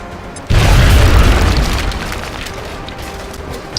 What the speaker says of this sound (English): We have a high explosive grenade here.